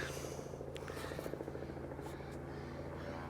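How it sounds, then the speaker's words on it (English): Steady low rotor thrum of a police helicopter in the distance over an Arctic glacial river, continuous throughout with faint outdoor noise. "there's a police helicopter"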